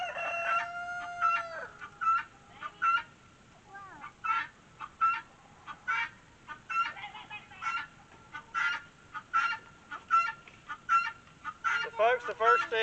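Pastured egg-laying hens cluck in a steady run of short, close, overlapping calls, with a rooster-like crow rising among them and a few brief bursts through the middle.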